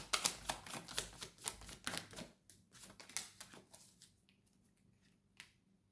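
Tarot cards snap and flick as they are drawn and laid down, a quick run of crisp, close taps that thins out into sparse single clicks against near silence.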